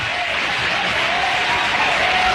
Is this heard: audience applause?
yes